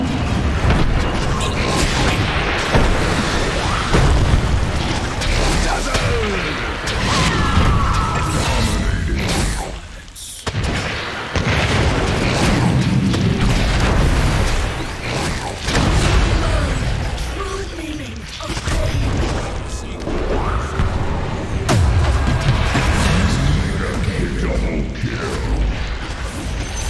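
Dota 2 battle audio as a bottom tower comes under attack and is destroyed, with dense booming impacts, crashes and spell effects rumbling loudly and nearly without pause, a brief lull midway, and in-game voice announcements over the action.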